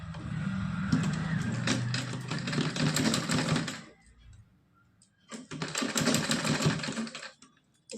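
An electric sewing machine stitches a small cotton night dress for a Laddu Gopal idol, running in two steady whirring bursts separated by a short pause, close and loud, with no talking.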